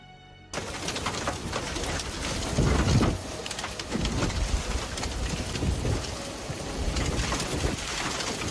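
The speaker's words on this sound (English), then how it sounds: "A violent thunderstorm hit central Texas, turning the sky into a chaotic scene of lightning, rain, and fierce wind." A violent thunderstorm in central Texas: steady heavy rain and gusting wind roar continuously at close range, with low rumbling swells that may be distant thunder.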